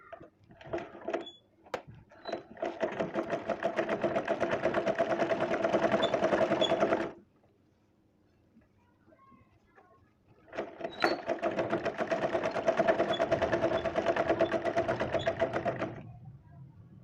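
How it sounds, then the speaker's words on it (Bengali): A sewing machine stitches cloth in two long, steady bursts of rapid mechanical whirring. A quiet pause separates the runs, and a few faint clicks come before the first. "এখন আমি এই কাপড়টিকে এইভাবে ধরে এখান দিয়ে একটি সেলাই দিয়ে নিচ্ছি।"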